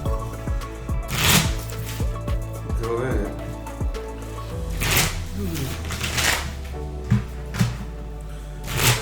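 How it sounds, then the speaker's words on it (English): A Hubworld Aidalon trading card deck is shuffled by hand in repeated riffling bursts, close and crisp, with people talking over parts of it. "we'll shuffle up"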